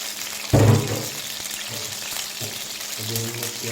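Onions hit hot oil in a pan for khari pakora, giving a loud initial splash of sizzling that settles into a steady crackling fry, with occasional stirring clinks, close up.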